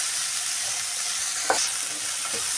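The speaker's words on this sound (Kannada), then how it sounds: "ಗೋಡಂಬಿ, ಈರುಳ್ಳಿ, ಬೆಳ್ಳುಳ್ಳಿ, ಟೊಮೊಟೊ ಎಲ್ಲ ಇದು ಫ್ರೈ ಆಗಬೇಕು." Cashews, onion, garlic and tomato fry in a pan, giving a steady close sizzle with a couple of brief stirring scrapes partway through.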